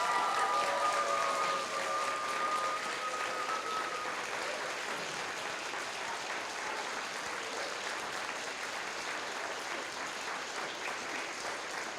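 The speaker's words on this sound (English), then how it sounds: "Students, please give her a big round of applause again for being amazing." Distant, sustained applause from a crowd of students, a soft even wash of clapping that continues throughout with a faint tone early on.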